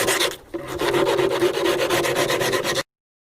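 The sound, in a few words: sanding rusty carriage parts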